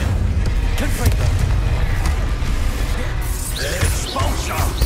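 Confringo blast spell firing in the Hogwarts Legacy video game, a dense booming burst over constant loud game action and rumble, with a brighter crackling flare near the end.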